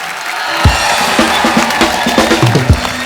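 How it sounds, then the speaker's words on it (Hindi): A studio audience at a comedy TV talk show breaks into loud, sustained applause and cheering, with a steady wash of clapping and a few sharper peaks of crowd noise throughout. "जोरदार तालियां"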